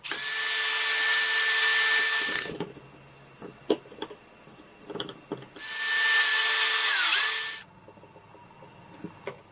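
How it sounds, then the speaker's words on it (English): A power drill boring out gears on a shaft of a refurbished ForceBot toy, two loud, sustained whirring bursts of about two seconds each, separated by quiet handling clicks and taps. "The gears on that shaft, they have to be drilled out."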